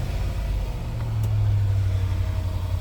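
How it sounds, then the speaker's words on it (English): A 2013 Range Rover Sport Supercharged engine, customized, starts from the push button and settles into a smooth, steady idle hum. A brief swell lifts the sound partway through before it evens out, with no one speaking. "push down on the brake, and go for the start-stop"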